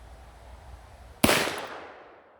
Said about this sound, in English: there's like no recoil shooting that 45 Colt ammo out of this